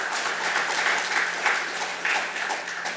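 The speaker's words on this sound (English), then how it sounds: "Give a big round of applause for all the speakers." Audience applause for the speakers at an inauguration event, a steady, dense wash of many hands clapping at fairly even loudness throughout.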